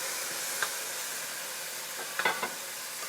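Spinach rice with crab meat cooking in a single pot, a soft steady hiss and sizzle with a handful of brief stirring clinks and scrapes near the end, fairly quiet and without speech.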